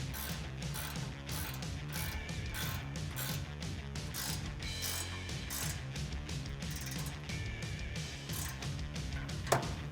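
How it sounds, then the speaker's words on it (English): A 16mm ratcheting wrench tightens a flag bolt on a 2016-2020 Toyota Tacoma while a grille guard is installed, producing rapid, continuous ratchet clicks close by with no voices. "I'm going to use a 16mm ratcheting wrench"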